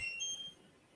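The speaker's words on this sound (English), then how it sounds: "there is a buzzer here, so you can test the I/O also" Electronic buzzer on an electronics test board sounding a steady high-pitched beep, near and clear, fading lower after about half a second.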